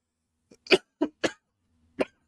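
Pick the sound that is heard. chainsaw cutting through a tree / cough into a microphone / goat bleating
cough into a microphone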